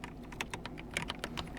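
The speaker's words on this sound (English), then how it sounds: "You simply have to press some keys on your keyboard." Quick, irregular key presses on a Logitech G316 X keyboard, about a dozen close clicky taps over a faint background hum.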